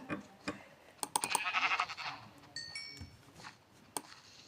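Sheep bleat in the Minecraft video game, a few short bleats among clicks and tapping as the player acts, plus a brief bright chime, all fairly quiet with no talk.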